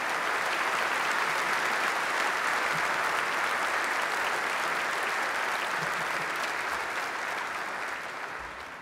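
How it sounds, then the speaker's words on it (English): Sustained, dense applause from a large audience fills the hall at a basketball Hall of Fame enshrinement ceremony honoring award winners, holding steady before slowly tapering near the end. "Please let's have a large round of applause"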